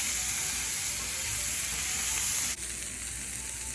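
Onions sauté in a pan, giving a steady close sizzle with broad hissing that holds evenly, then dips slightly as if stirred or moved, with no voices over it.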